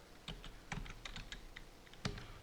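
Someone types a password on a computer keyboard in a quick run of soft, irregular key taps, faint and close, with no talking.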